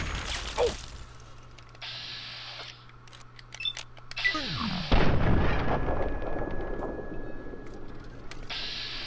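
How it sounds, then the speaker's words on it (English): A single sharp sniper rifle shot in the video game Fallout 3, a loud crack with a rumbling echo, set among clicking game mechanisms and faint background talk. "we can get a sniper shot from here"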